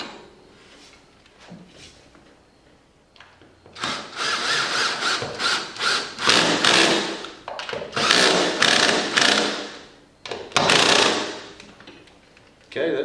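A power tool drives lag bolts through small mounting holes to fix a Liftmaster garage door opener in place, heard as several loud, buzzing bursts of varying length separated by brief pauses after a quieter opening.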